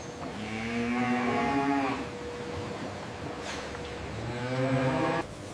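Cattle inside a cow leather factory give two long, loud moos, one early and one near the end, with quieter barn noise in between.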